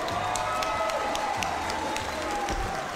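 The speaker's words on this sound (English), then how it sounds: "how about a nice round of applause for both fighters" Steady applause from a large crowd at an MMA fight fills the space, a dense wash of clapping with scattered louder claps throughout.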